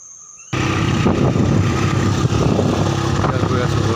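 A motorbike rides home with cut taro tied on the back. After a brief quiet start, the engine cuts in and a steady, close droning rumble with road noise runs to the end.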